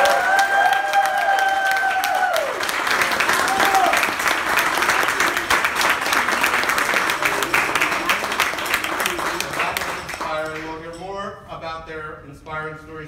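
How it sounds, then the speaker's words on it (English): Audience giving a loud, sustained round of applause at a gathering, dense clapping and some cheering that fades as a voice begins speaking near the end. "I invite you all to give them a round of applause."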